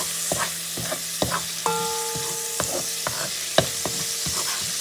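Onions stirred in a frying pan for a Puerto Rican shrimp and pigeon pea rice stew, with a steady sizzle broken by repeated scraping clacks of the utensil against the pan, close and alone.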